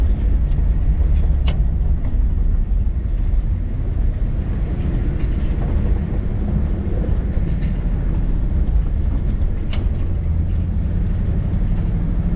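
Heavy Chevrolet C70 truck climbing a hill in low first gear while hauling logs, a steady loud engine drone with deep low rumble and road noise continuing throughout, no talk.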